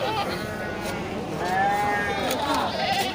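Goats and sheep bleating at Grogol livestock market, several overlapping wavering calls close by over a busy market murmur.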